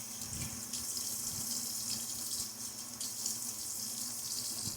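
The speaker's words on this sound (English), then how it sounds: "And let me get my face wet first." A bathroom tap runs steadily into a sink while a face is wetted before shaving, a constant close hiss of water with faint splashing and no talk.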